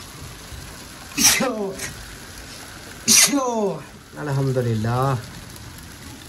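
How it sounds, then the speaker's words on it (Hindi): Heavy rain pours down in a steady, close hiss that runs under a voice speaking throughout. "अभी फुल बारिश हो रही है"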